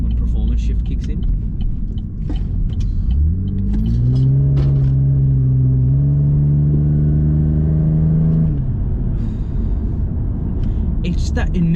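A supercharged Holden SV6 accelerates hard as its performance shift engages, the engine note rising in a loud, close climb, easing off for a gearchange and then pulling steadily again, with cabin rumble throughout.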